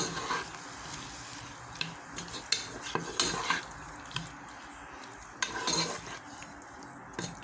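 Vegetables with curry are stirred and sautéed in a pan, with irregular clinks and scrapes of a utensil against the pan over a soft background sizzle, with no talk.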